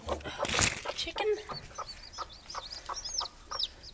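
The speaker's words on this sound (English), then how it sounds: "Ooh, chicken?" Backyard hens cluck in repeated short calls at close to moderate distance, a quick rustle and a brief human voice near the start before the steady clucking continues.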